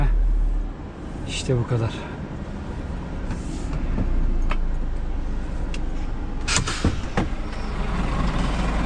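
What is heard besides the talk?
truck engine driving in snow, shifting up gear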